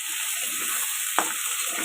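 Mung dal sizzling and frying in a hot pan, a steady close crackling hiss with one brief stir or clink partway through, no voices.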